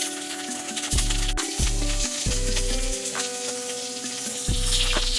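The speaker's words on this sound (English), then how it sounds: "I'm going to add 1 tablespoon of butter and 1 tablespoon of olive oil. Then we're going to add our scallops." Scallops sear in a pan of butter and olive oil, giving a steady close sizzle throughout with a few louder bursts of spitting fat.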